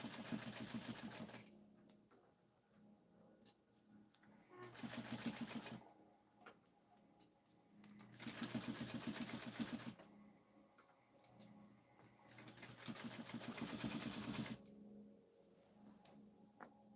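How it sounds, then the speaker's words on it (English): A sewing machine edge-stitches fabric for a jumpsuit in repeated runs of steady whirring stitching about two seconds long, separated by short quieter pauses, close and with no talking. "I'm gonna go edge stitching."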